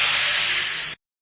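Hot spice tempering poured onto chutney for puffed rice dosa, a loud close burst of sizzling hiss that holds steady for about a second and then cuts off abruptly.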